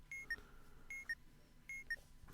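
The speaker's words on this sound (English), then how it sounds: "That was the lovely 8-bit sounds you heard." Electronic 8-bit beeps from the bomb-defusal game Keep Talking and Nobody Explodes sound in three evenly spaced pairs of short tones, each pair high then slightly lower, quiet and clean, with no talking.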